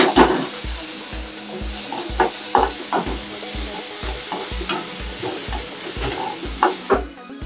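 Green chilies and tomatoes sauté in a pan for rava kichadi, a steady loud sizzle with repeated scraping stir strokes throughout, then the frying noise drops away at the very end.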